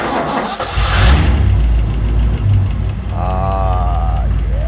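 A 1964 Ford Galaxie big-block V8 cranks and fires up loud and close, settling into a rough, lumpy idle; a voice speaks briefly over the running engine.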